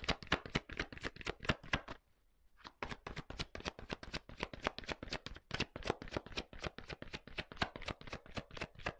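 Close, crisp riffle of tarot cards being shuffled and handled, a quick rhythmic run of flicks that pauses for about half a second before resuming at the same brisk pace, with no talking.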